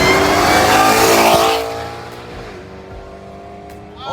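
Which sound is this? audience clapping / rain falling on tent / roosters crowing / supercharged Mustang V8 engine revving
supercharged Mustang V8 engine revving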